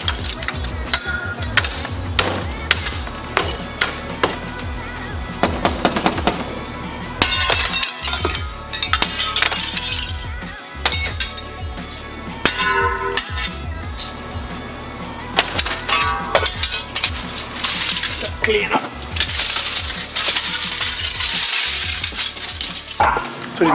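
Broken window glass is knocked out of its frame by someone wearing gloves, with repeated sharp clinks, cracks and tinkling shards scattered irregularly across a loud, busy stretch.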